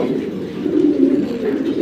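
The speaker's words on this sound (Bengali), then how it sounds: "এখানে অনেক ধরনের মিলিটারি কবুতর আছে" Several Military Silver pigeons coo close by in a loft, soft throaty rolling coos overlapping continuously with no talk.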